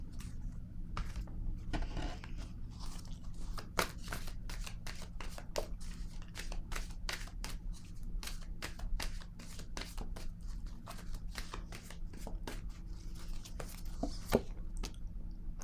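Tarot cards are laid down and handled on a table, with quiet, irregular soft slaps and shuffling rustles close by across a calm, low background.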